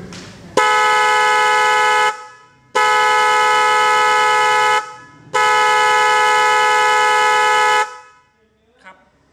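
A very loud car horn blares in three long sustained blasts of about two seconds each, separated by short silences.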